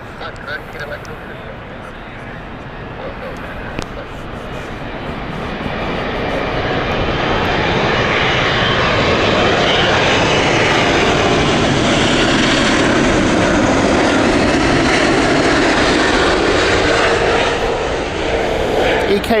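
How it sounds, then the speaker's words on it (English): An Emirates airliner coming in to land at Heathrow Airport roars loudly and steadily, swelling as it passes close overhead, with people talking over the engine noise. "there is an Emirates coming in"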